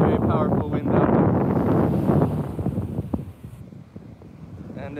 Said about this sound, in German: excuse me about the wind, I'm sorry, it's very, very powerful wind out there